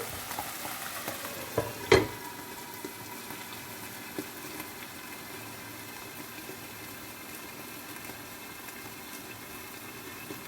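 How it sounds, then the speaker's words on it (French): A dish simmering in a pan gives a low, steady bubbling hiss close by, with one sharp knock of a utensil early on and otherwise continuous quiet cooking, no voices. "je vais laisser encore mijoter un petit peu"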